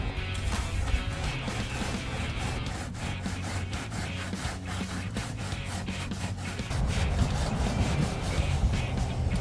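Sanding loose rust and paint off a car door, a steady abrasive rasping made of rapid repeated strokes, close and moderately loud, getting heavier and rougher toward the end.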